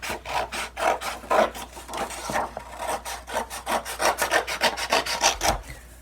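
Scissors or a blade cut through folded cardboard in a fast series of close, raspy strokes that keep on without a break and speed up toward the end.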